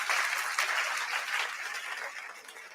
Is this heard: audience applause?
yes